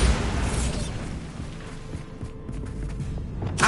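A Bombarda blasting spell bursts in the video game Hogwarts Legacy, a loud boomy explosion with rumbling debris that rolls on for several seconds, then a second crackling burst near the end.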